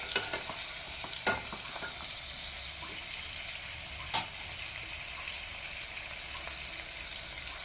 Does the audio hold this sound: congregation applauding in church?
no